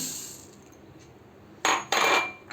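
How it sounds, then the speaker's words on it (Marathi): Puffed rice (kurmure) is poured into a bowl for sukhi bhel, a quiet lead-in followed by two loud, rattling pouring bursts close up. "इकडे मी बाऊल घेतला आहे त्याच्यामध्ये आपण आता कुरमुरे घालून घेऊ"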